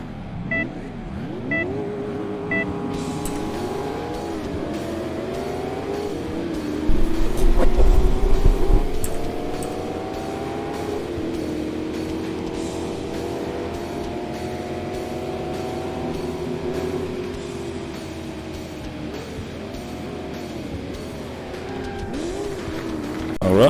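Race cars in Crash Time 3, a driving video game, rev hard with bursts of tire squeal, engines rising and falling continuously over a loud, steady stretch with a sharp louder burst near the middle.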